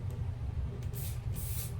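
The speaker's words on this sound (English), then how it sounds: "I'm just gonna spray a little bit" Hair spray hisses from a can onto a hair closure install in two short bursts, close and soft, over a low steady background hum.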